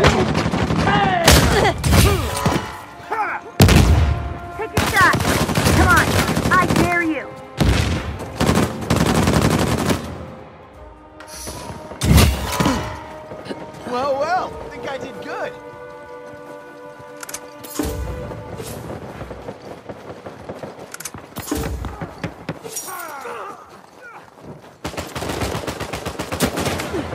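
Rapid bursts of gunfire from an Uncharted 4 multiplayer match crackle loud and close, with repeated automatic volleys and sharp single shots separated by short pauses, while players shout over the action.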